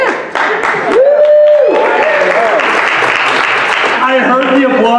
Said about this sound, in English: I heard the applause coming over that